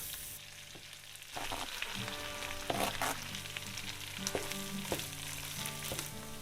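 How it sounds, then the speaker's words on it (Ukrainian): Butter, rosemary and garlic added to a pan with browned pork belly, setting off a sudden burst of crackling sizzle that carries on at a steady level with a few sharper pops, close and without speech. "Додаємо вершкове масло потім розмарин чесник."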